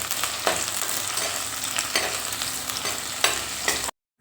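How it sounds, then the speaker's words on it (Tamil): Shallots, green chili and garlic sautéing in oil in a clay pot, a steady close sizzle with a few brief scraping stirs, no voices, cutting off near the end. "எல்லாத்தையும் நல்லா எண்ணெயில் வதக்கிடலாம்."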